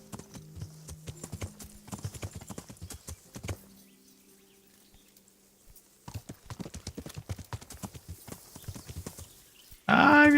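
Horse hooves clip-clop in quick bursts with occasional whinnies from a flying video-game horse, then a sudden loud burst of game noise at the end.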